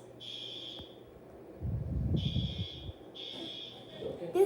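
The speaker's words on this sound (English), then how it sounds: "Because the fire alarms are going off." Hotel fire alarm going off in repeated high, piercing buzzing bursts, with a low rumble of movement and faint voices between the tones.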